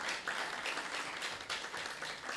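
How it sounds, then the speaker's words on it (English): An audience applauds a speaker coming forward at a scholarship event, with steady, dense clapping that continues throughout, fairly distant and soft. "thunder clapping for Madame Victorine, put our hands together as she makes her way forward"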